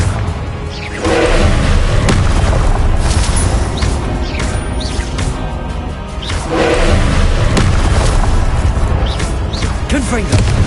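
Confringo spell explosions in a Harry Potter-themed game, heavy booming blasts that swell and rumble loudly, two big surges with some crashing debris, nearly continuous and alone.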